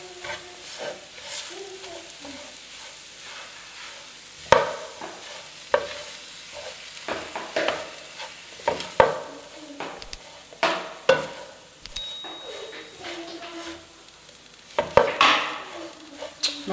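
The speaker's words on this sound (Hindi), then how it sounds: "अब इसको अच्छी तरह मिक्स कर लें।" Spiced potato filling with mint is stirred in a pan, giving repeated close scraping strokes and thuds over a soft, continuous sizzle, uneven in rhythm, with no talk.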